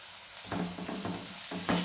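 A snack mixture of tomato, curry leaves and roasted peanuts is stirred and roasted in a hot pan, giving soft sizzling with several distinct scraping stirs of a spoon, close and fairly quiet.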